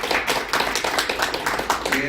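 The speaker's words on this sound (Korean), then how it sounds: "크게 박수해 주시기 바랍니다" Applause at a unification-preparation forum seminar, a dense patter of clapping lasting the whole moment, with voices talking over it.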